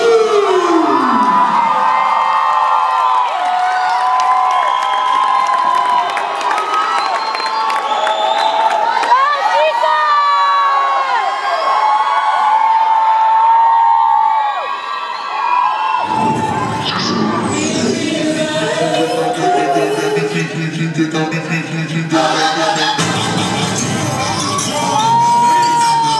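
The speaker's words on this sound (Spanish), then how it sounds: "el aplauso para Jokers Crew." A crowd cheers and shouts for a hip-hop dance crew at a qualifying competition, loud and continuous with high whoops and sharp bursts, mixed with amplified music and an announcer's voice.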